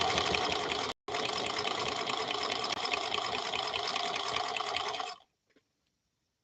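A Centennial Featherweight sewing machine running a test seam, a steady loud whirring drone of stitching that stops briefly near the start, resumes for several seconds, then cuts off into near silence.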